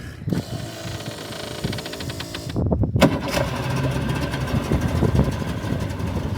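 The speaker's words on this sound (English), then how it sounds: "That is idling so much better." A small two-stroke outboard motor idles with a rough, rapid putter, briefly dipping then settling into a steady rattling rhythm nearby.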